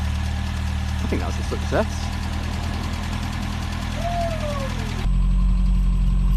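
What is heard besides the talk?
Mk2 Ford Escort 1.3 engine idling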